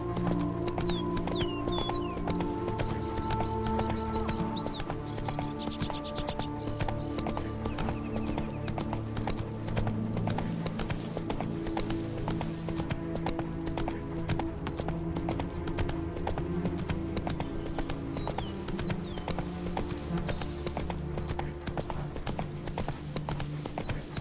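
Roach the horse gallops in The Witcher 3: Wild Hunt – Blood and Wine, with steady rhythmic hoofbeats running throughout over a music score and ambient game sounds.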